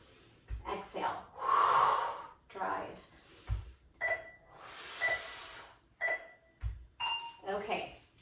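Sharp, forceful breaths push out in several bursts during heavy kettlebell deadlifts in a workout, close to the listener and strained, with short hissing exhales spaced by pauses.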